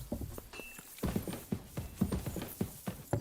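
Horses' hooves clip-clop on the ground in the video game Kingdom Come Deliverance 2, a close, steady rhythmic series of hoof strikes with a faint mechanical creak at one point.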